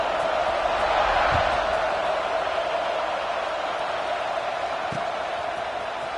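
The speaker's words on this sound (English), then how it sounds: "this crowd is buzzing after that last score" A football stadium crowd buzzes continuously after a score, a dense steady roar of many voices with faint scattered cheers and no single clear talker.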